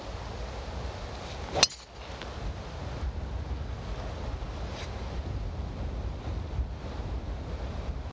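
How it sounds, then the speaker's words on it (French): Steady wind roaring across an open golf course near a water hazard, a broad continuous rush with one brief sharp knock early on, no voices. "le vent est vraiment de face"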